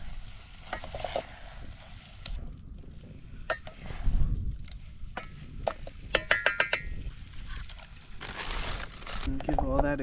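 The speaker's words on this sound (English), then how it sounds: "And give all that a good stir up here." A spoon stirs food in a cooking pot at a rocky fishing camp, giving scraping, clinking and sizzling sounds in irregular bursts, with a quick run of sharp metallic taps near the middle and faint voices in the background.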